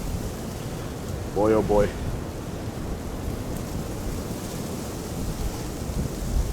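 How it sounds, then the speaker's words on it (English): Strong wind roars steadily outdoors on a very cold day, a broad rushing noise that never lets up, with a brief spoken exclamation from a man partway through. "The wind blew it out again."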